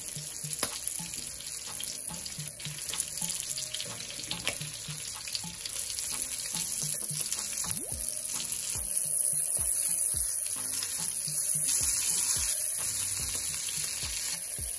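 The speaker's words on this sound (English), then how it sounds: "it's time to go ahead and flip our fish" A honey garlic salmon fillet sizzling in a hot pan as it is flipped, a dense steady fry with scattered pops and crackles throughout, close and fairly loud, no talking.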